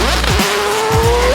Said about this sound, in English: one of the best things to me about this car is the sound